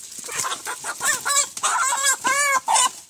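Hens cluck repeatedly in short, nasal bursts, with several birds calling close by in an irregular, busy rhythm.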